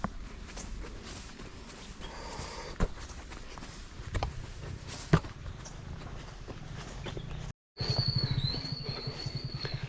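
A motorcycle rides over a rough, muddy off-road village track, its engine churning with bumps and knocks. The sound drops out for a moment, then comes back with a thin whine over the ride.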